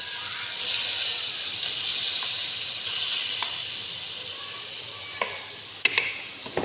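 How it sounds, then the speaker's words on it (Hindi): Boiled beef for karahi fries in ghee with a steady close sizzle and hiss, lightly stirred, with a few sharp clinks of a utensil against the pan near the end. "इसको आप थोड़ा सा भून लेंगे"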